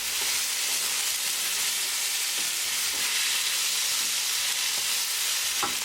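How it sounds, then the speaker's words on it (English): Tomatoes stirred into sizzling onions in a pan for lamb curry, a steady dense frying hiss with occasional soft scrapes of the spoon, close and unbroken throughout. "Add tomatoes. Mix it well."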